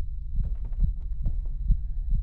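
Inside the horror game 9 Childs Street, a deep, muffled heartbeat pounds in a close, regular double-thump rhythm over a low droning hum, with no other sounds.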